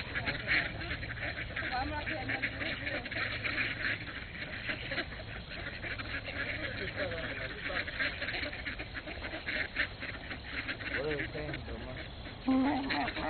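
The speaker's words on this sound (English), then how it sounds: "look at all those ducks." Many ducks in a park quacking in a noisy, constant chorus while being fed, with people talking over the flock now and then.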